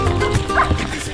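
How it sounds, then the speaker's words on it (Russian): Dogs barking in a quiet riverside town in Uruguay, a short burst of yips and woofs at moderate distance over steady background noise. "собаки лают"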